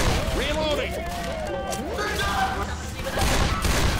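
Left 4 Dead 2 gunfire in an expert Death Toll campaign run, several rapid shots and bursts mixed with game effects, heard under steady commentary from a player.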